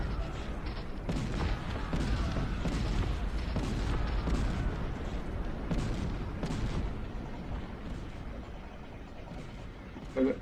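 Mortar and artillery fire from the strategy game Cossacks: Art of War, a continuous dense barrage of booms and gunshot cracks at moderate level, with rapid overlapping blasts that thin out toward the end.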